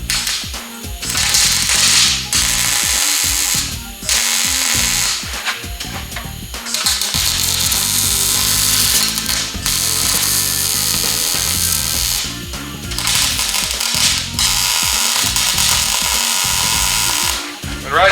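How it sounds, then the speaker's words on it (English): Welding onto the corners of a metal frame for custom table legs gives loud crackling, buzzing bursts lasting a few seconds each, separated by short pauses, with no talking. "right now I'm just going to weld the corners up"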